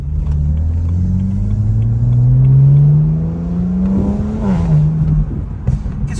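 A car engine revs up with rising pitch, climbing steadily, then shifts briefly and pulls again, heard close and loud from inside the vehicle.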